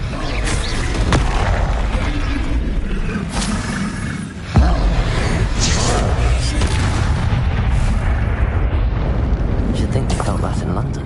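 Bombarda and Confringo spells explode again and again in the Hogwarts Legacy video game, a loud, dense barrage of booms and blasts over continuous battle noise, with a voice talking throughout.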